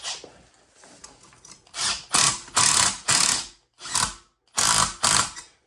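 A ratchet with an 11 mm socket tightens a nut on a 6.0 Powerstroke during a fan clutch conversion, giving close, crisp bursts of clicking in several separate strokes with brief pauses between them.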